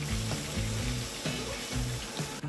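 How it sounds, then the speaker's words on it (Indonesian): Onion rings deep-frying in oil for a BBQ bacon cheeseburger, giving a steady close crackling sizzle with bubbling that runs throughout, no voices. "Next, kita goreng onion ring hingga golden brown."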